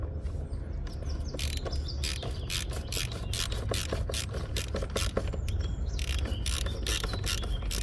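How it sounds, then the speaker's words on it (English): A socket ratchet tightens a car's drain plug, its rapid clicking bursts repeating unevenly at close range, loud and clear with no voices. "New in, and my fancy pants socket."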